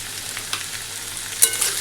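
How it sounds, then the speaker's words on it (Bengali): Potatoes fry in a pan with a steady, close sizzle and a few sharper pops and spits, no one speaking over it. "আলু ভাজাও বসিয়ে দিয়েছি।"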